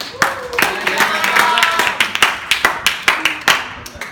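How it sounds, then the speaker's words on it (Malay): Students clapping in a classroom during a Malay literature lesson, with irregular close sharp claps that become a sparse, slowing patter, and some voices under them. "Bagi tepukan."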